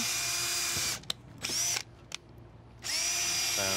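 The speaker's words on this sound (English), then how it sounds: "all you're going to do, drill through them." A power drill whines in loud bursts, starting and stopping several times with brief pauses between runs, close up.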